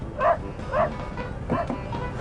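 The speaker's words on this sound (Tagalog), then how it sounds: "Hoy aso! Hindi ka pwede umakyat dyan!" A dog gives a few short yips and barks, three quick calls spaced about half a second apart, close by with faint background noise.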